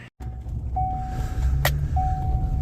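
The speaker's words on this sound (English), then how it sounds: "I see down at the farm we have a delivery vehicle" A chemical delivery vehicle arriving at a farm, a low steady engine rumble with a thin high whine that comes and goes, heard from a distance.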